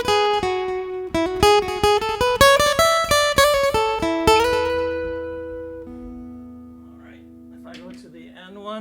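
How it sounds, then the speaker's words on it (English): Acoustic guitar notes played through a Fender Tone Master Pro tremolo effect pulse rapidly in a steady throb, then ring out and fade. A brief voice follows near the end. "That's my tremolo."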